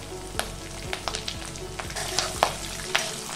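Urad dal, chana dal, mustard seeds, cumin and dried red and green chillies spluttering in hot oil for pulihora: a close, steady crackle punctuated by sharp pops, with no voices.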